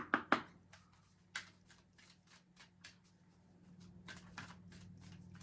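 Tarot cards are shuffled by hand in soft, quick riffling bursts with pauses between, close and quiet, with a faint steady hum underneath and no talking.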